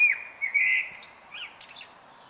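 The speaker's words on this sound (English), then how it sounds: "There is something sublime about early morning birdsong." Early morning birdsong: a bird whistles a sustained clear note, then follows with several quick chirps and twittering calls, close and alone against a soft background hush.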